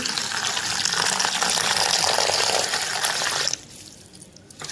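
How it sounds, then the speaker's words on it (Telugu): Dried prawns being washed under running water, a steady loud gushing splash that cuts off abruptly near the end, leaving quieter trickling and handling noise. "ఇప్పుడు రొయ్యలు కూడా మనం శుభ్రంగా వాటర్ పోసుకొని కడుక్కుందామండి శుభ్రంగా కడిగేయాలి"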